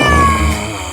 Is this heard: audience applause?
no